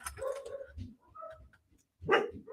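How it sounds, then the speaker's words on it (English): A dog giving several short barks and whimpering yips in irregular bursts, close by indoors, with a louder bark near the end. "Okay, who brought the dog?"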